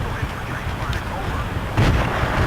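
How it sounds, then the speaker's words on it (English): Booming gunfire and heavy blasts fill a Battlefield 2 firefight, a dense, loud barrage of shots close by with a sharper burst near the end. "I just get shot in the face"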